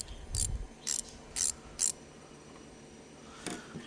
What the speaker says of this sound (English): get the spanners, let's have a look